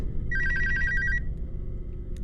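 A telephone rings in a video game, a rapid trilling electronic bell burst lasting about a second, clear over a low, steady background rumble.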